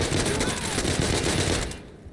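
Rapid automatic gunfire in Insurgency: Sandstorm, a dense, loud burst of shots lasting nearly two seconds before cutting off, with speech mixed in.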